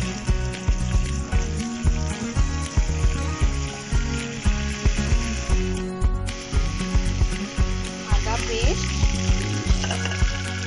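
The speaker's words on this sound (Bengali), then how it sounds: "এবার আমি দিয়ে দেব কাঁচা লঙ্কা পেস্ট" Green chili paste hits a hot pan while cooking spicy doi potol, a pure veg dish, with steady loud sizzling and frying crackle and rhythmic stirring scrapes throughout.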